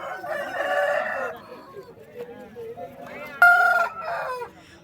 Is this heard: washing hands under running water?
no